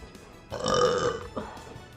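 A streamer lets out one long, loud burp, followed by a brief smaller burp.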